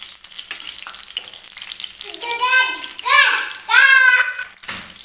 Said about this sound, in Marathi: तर हे आपल्याला वितळून घ्यायचं आहे तूप